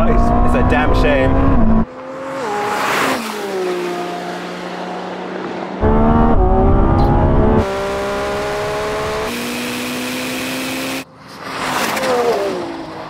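A Lamborghini Revuelto, a Ferrari 296 and a Ferrari SF90 launch hard in a drag race, engines rising in loud, climbing revs that cut and repeat across several runs, with people talking between launches.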